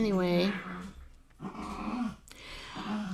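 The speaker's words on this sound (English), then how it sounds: "Okay, dogs, stop." Several dogs growling and whimpering indoors, a close whiny, tonal cry at first followed by lower rumbling growls in bursts, with a person's voice briefly mixed in.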